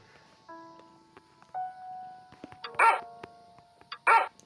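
In the puzzle video game Rusty Lake Roots, a dog gives two short, sharp barks near the end, following a few soft chiming tones amid quiet game sounds.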